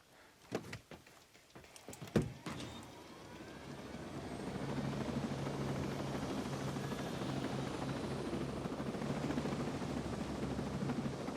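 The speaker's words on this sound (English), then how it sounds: "We gotta get to the chopper, we gotta do it now." A video game helicopter rises from a few clicks and thumps into a steady, loud rotor drone that holds to the end.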